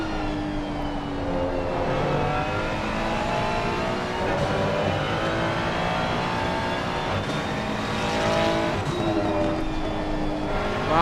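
Race cars in a PC racing game at Laguna Seca, with an Audi, Porsche, Ferrari and McLaren running at the front. Engines whine steadily at high revs, shifting pitch as the cars pass and accelerate, with no talk over them.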